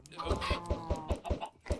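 Chickens clucking in Minecraft, a steady run of short rhythmic clucks and pulses repeating about every fifth of a second, fairly loud and close.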